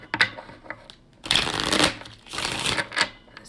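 Lenormand cards are shuffled by hand, with a short riffle, a pause, then two longer bursts of fluttering card noise close by.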